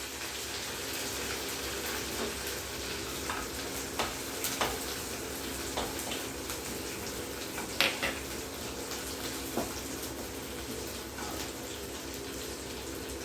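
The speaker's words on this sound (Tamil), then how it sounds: "அதையும் இந்த கடுகு வெந்தயத்தோடு போட்டு நல்லா வதக்கிக்கணும்." Neem flowers cooking in a pan with mustard seeds and fenugreek give a low, steady sizzle, broken by scattered sharp pops and clicks of stirring.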